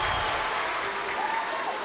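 A crowd at a high school boys basketball playoff game in a gym roars in protest after a traveling call, a loud sustained mass of voices and noise with whistling.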